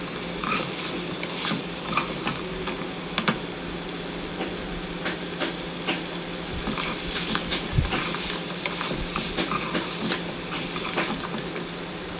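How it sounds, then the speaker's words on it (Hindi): Mutton sizzles and fries in its own fat in a pan, a steady crackling hiss with scattered pops and occasional stirring scrapes, close and continuous with no talking. "गोश्त हमारा फ्राई हो रहा है, गोश्त के अपने ही तेल में फ्राई हो रहा है।"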